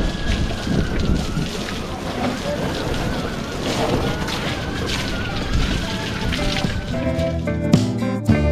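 Strong wind buffets the microphone outdoors during a motorcycle wash, a steady loud roar with gusting rumble throughout and some knocks near the end.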